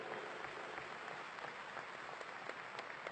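A hall full of people at a Brazilian bar association ceremony breaks into applause, a thick, even wash of clapping sustained for a few seconds.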